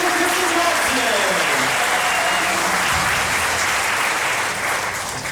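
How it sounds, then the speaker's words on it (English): A church audience gives loud, sustained applause for Lady Houdini escape artist Kristen Johnson, dense clapping mixed with crowd voices that holds steady and eases slightly at the end. "this round of applause is for you, sir"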